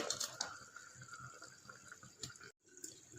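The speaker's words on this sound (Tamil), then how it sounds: "குழம்பு நல்லா கொதிக்க ஆரம்பிச்சிருச்சு." A pot of curry-leaf curry bubbles softly on a medium flame with a steady gurgling hiss and occasional louder pops, fairly faint and briefly cutting out near the end.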